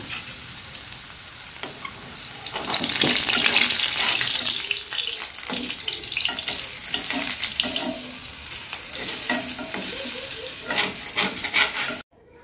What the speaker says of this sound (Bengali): এবার আমি এটা বড়ার আকারে এর ভেতরে দিয়ে দিচ্ছি ভেজে নেওয়ার জন্য।